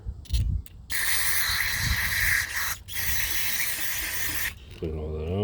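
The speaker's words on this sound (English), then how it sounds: "You can see if I spray in here, comes out here." Several bursts of cleaner spray hiss loudly through a Kawasaki ZZR1200 fuel pump, each lasting a second or more, with short pauses between them and a brief voice at the end.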